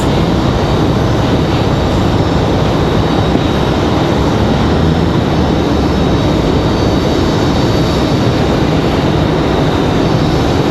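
A United Airlines jet at Raleigh-Durham airport gives a loud, steady roar of engine noise with heavy broadband rumble, near and continuous, with no talk over it.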